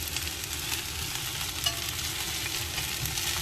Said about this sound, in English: If you can hear me over the sound of the onions, because they do make quite a nice noise.